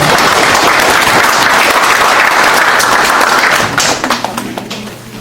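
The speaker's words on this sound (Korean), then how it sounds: "큰 박수로 환영해 주시기 바랍니다" Loud applause from an audience fills the room, then thins out and tapers off into scattered claps.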